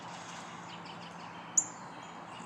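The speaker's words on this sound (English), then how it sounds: "here comes the sparrows." A sparrow gives a single sharp chirp over a quiet, steady outdoor hush during a morning walk.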